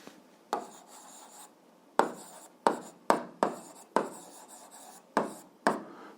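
Pen strokes on paper, a series of short scratchy bursts and taps in an irregular rhythm, close and fairly clear, separated by brief quiet gaps with no speech.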